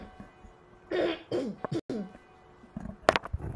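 Coughing from a person while playing the online shooter Krunker: a few close, harsh bursts into a microphone around the middle, with faint game sounds and clicks later.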